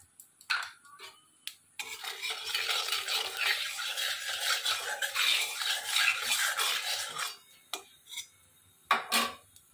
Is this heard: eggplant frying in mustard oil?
yes